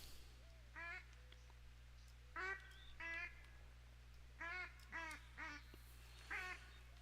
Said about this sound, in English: There's more ducks.